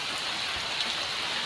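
Steady rain falls over farmland with rice paddies near Gopalganj and Chhapra, a constant even hiss of drops with no voices.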